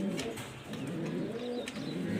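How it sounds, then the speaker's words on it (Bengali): A white Roman pigeon coos softly and steadily, its low murmuring calls rising and falling over a constant background hum. "কবুতরটা খুবই একটা ভালো মানের কবুতর"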